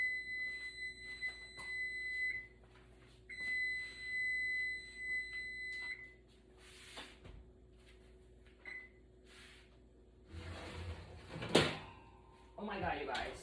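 An oven timer beeps in a repeated run of steady electronic tones while bread bakes. The beeps come in two bursts and sound fairly close. Kitchen clatter and a voice follow.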